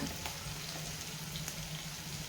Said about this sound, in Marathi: आता मिरची थोडीशी फ्राय होऊपर्यंत हलक्या हाताने आपल्याला